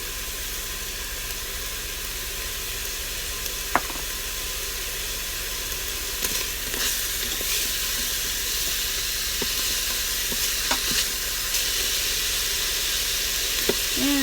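Food sautés in an Instant Pot for a ham and fifteen-bean soup. A steady sizzling hiss carries throughout, broken by occasional faint clicks and taps from stirring.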